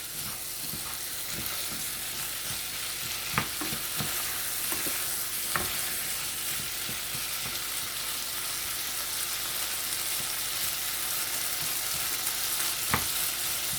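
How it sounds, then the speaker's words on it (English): Chickpeas (no salt added) being stirred as they fry in a pan, with a steady close sizzle throughout and occasional sharp clicks of a utensil against the pan. "I'm going to stir. You're going to mix until it's well blended, right?"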